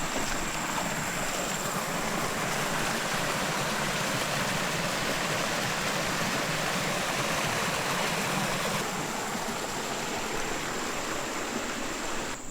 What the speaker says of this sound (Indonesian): Perjalanan kami disambut dengan sungai kecil yang menawarkan kesegaran air dan kesejukan di sekelilingnya.